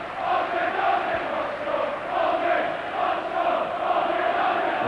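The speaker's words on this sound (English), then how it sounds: "The crowd taunting John Aldridge." Football crowd at a Division 1 play-off match between Swindon Town and Tranmere Rovers, taunting striker John Aldridge: a dense, sustained roar of massed voices with rising and falling chanted swells, steady and fairly loud throughout.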